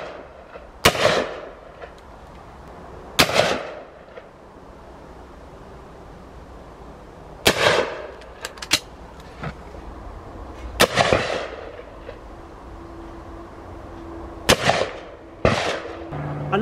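Shotgun blasts from clay cartridges with 7.5 or 8 shot and fibre wads, and 30 gram number 6 fibre wad game cartridges, fired outdoors: six sharp, loud reports spaced a few seconds apart over a quiet, breezy background.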